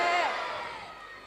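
An audience at a religious cultural quiz event cheers and whoops in a loud, dense crowd roar that fades steadily across the moment.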